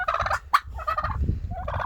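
Broad-breasted turkey hens, two bronze and one white, gobble in short, loud, close warbling bursts, with a brief sharp squawk in between.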